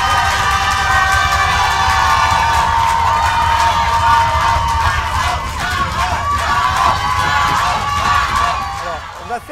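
A French TV game show studio audience applauds and cheers loudly and continuously, with excited shouts and voices mixed into the dense noise of the crowd.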